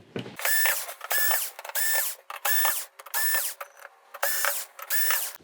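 Screws are backed out of a Sony XBR-55X900E TV main board with an electric screwdriver, which gives a run of short, whirring buzzes with clear gaps between them, close and clear, with no talking.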